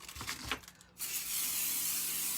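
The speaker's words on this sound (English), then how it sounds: "I'm going to take my Pixie spray, which is just a reusable, repositionable adhesive spray" A can of Pixie repositionable adhesive spray is sprayed onto a craft surface, a quiet rustle of handling followed after about a second by a continuous close, hissing spray that stays steady to the end.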